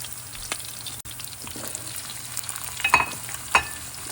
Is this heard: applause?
no